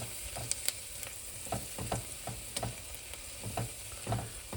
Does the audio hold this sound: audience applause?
no